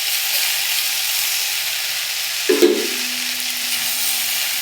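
Potato, pointed gourd and tomato fry in a pan with a steady, moderate sizzle close by, broken midway by a brief clunk of a utensil, and no one speaks.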